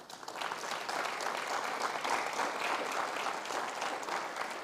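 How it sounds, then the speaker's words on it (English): Guests at a retirement reception break into a brief burst of steady applause that fills the room. "I think you all deserve a round of applause"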